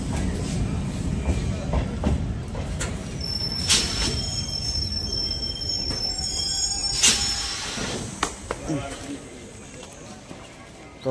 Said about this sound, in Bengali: তো কথায় কথায় আমাদের ট্রেন কাশিমবাজার পৌঁছে গেল তার গন্তব্যস্থল বা আমারও সেই স্টেশন